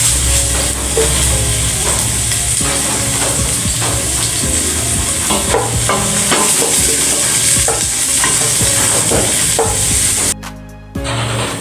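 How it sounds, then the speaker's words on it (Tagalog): Garlic and onion fry and are stirred in a pan, a loud steady sizzle broken by repeated scraping stirs, briefly dropping out near the end. "Antayin po natin na mag-golden brown ang ating bawang."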